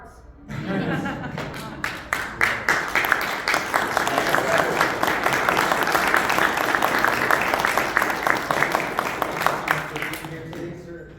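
A convention panel audience at Legends Consortium 2023 gives a steady round of applause, many hands clapping close and even for several seconds, tapering off at the end.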